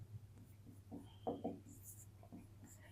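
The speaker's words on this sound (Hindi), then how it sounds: "तो हम लिखेंगे" Faint pen or chalk strokes during a maths lesson on sets, sounding as a few soft scratchy bursts over a steady low hum.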